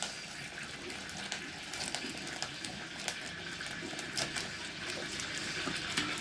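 Alcohol flambéing in a pan of noodles gives a steady, close roaring hiss with scattered crackles and pops throughout, and no voices.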